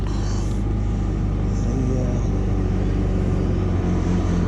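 A 2022 Kawasaki Ultra 310LX jet ski runs with a loud, steady low engine rumble throughout, the constant drone close and dominant with broadband wind and water noise layered on top.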